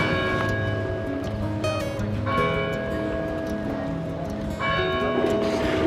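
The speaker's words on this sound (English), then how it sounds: "obviously by the chiming sounds, it's still working." A clock tower bell in Adana, a tower built in 1882 and 32 metres high, strikes repeatedly in loud ringing tolls that overlap and sustain across the whole span, with no speech.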